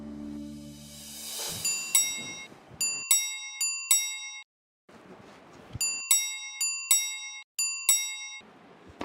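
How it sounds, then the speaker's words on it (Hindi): An electronic doorbell rings repeatedly in a home, bright chime tones in quick bursts of several rings separated by short pauses, loud and close with no talking. "कब से घंटी बज रही है"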